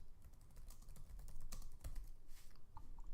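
Quiet clicking keystrokes on a computer keyboard come in uneven bursts, with several sharper taps standing out, close and soft with no talking.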